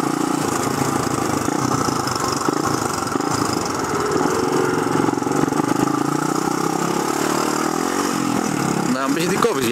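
A motorcycle weaving through city traffic on a ride home from work, its engine droning steadily and loudly up close with wind noise throughout, while a rider talks over it.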